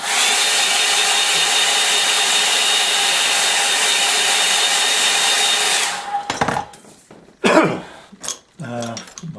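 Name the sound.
hair dryer drying a watercolour painting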